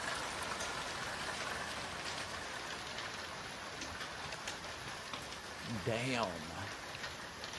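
Hail falling in Melbourne, Australia, a dense, steady hiss of pattering ice across the whole stretch, with a short exclamation from a voice partway through.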